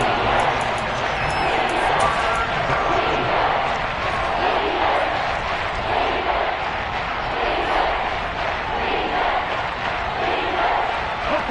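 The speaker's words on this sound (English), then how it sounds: "the crowd getting into it as we come up on a big 3rd down" A stadium crowd in an American football video game on PS4 roars and cheers continuously ahead of a big third down, a dense, steady wash of noise with no clear breaks.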